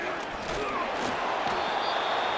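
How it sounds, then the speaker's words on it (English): A stadium crowd in the Madden NFL 25 football game roars in a steady, dense wash of cheering and noise, continuous and fairly loud throughout. "Well, listen to this crowd."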